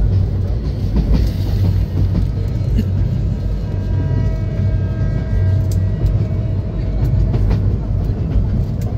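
Onboard the Kalni Express passenger train between Sylhet and Dhaka, a constant low rumble and rattle of the carriage rolling along fills the scene without a break.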